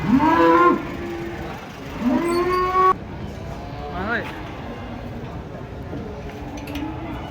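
A Limousin cow being unloaded from a truck gives several loud, drawn-out moos, two long calls early on and a shorter one later, while people talk nearby.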